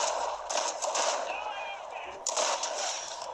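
Gunfire in a battle royale video game, a dense, hissy rattle of shots with bright cracks near the start and middle, under excited talk from a player.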